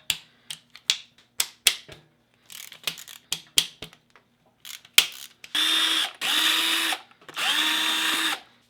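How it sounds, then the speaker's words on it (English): A ratchet unbolts engine emissions equipment in quick bursts of sharp clicking, followed by three longer steady buzzing runs of a power tool, close up and with no talk. "So first thing I'm going to do is just basically unbolt all of this stuff."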